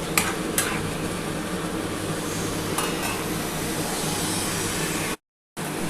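Spice paste with yogurt sizzles steadily in a little oil in a pan during egg curry cooking. A spoon clinks and stirs now and then against the close, continuous frying hiss.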